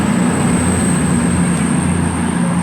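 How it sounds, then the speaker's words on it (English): A Virgin Pendolino train heading north rumbles loudly and continuously past at Milton Keynes Central, a close, steady roar of wheels and rail noise with a high whine over it. "Virgin Pendolino as well, heading north."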